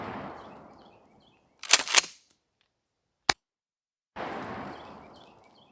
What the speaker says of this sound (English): Got a couple rounds of buckshot here.